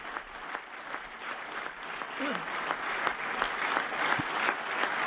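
Applause from an audience greeting Pope Francis at a meeting with authorities in Japan, a steady sustained wash of many clapping hands with a faint voice briefly heard over it.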